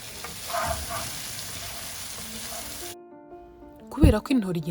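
A little water added to dried sardines frying in a pan brings a steady, close hiss of sizzling that cuts off abruptly, followed by a brief voice.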